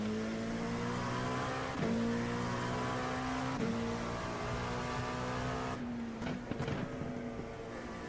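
Loud droning race car engine in a racing video game at the Nürburgring Grand Prix circuit, pitch shifting as gears change, a continuous roar close up with brief rattling bursts near the end.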